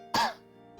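A single short cough or throat-clearing from a person, close and loud, fading quickly into a quiet background hum.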